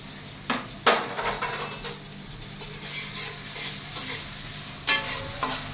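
Onions fry in hot oil with bay leaf, cardamom and cinnamon for a Chinese chicken curry, a steady close sizzle broken by repeated spatula scrapes and stirring knocks against the pan.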